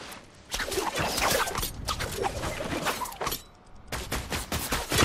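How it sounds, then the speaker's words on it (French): Sniper and other gunfire in a battle royale video game crack out as a dense, loud burst of shots, with quieter gaps before bursts resume near the end. No one speaks. "Oh, tu te fais sniper en plus."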